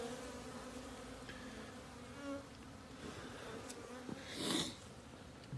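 Honeybees buzz in the hive as they feed on pollen patty during an early spring inspection, a faint, steady hum with one bee passing nearby.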